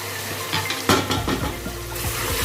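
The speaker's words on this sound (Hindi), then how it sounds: "गोश्त को 5 मिनट भूनने के बाद अब हम इसमें ये मसाले डाल देंगे" Mutton frying in a pot for korma, with coriander, red chilli powder and garam masala going in, close sizzling broken by several sharp clinks and scrapes of a utensil against the pot.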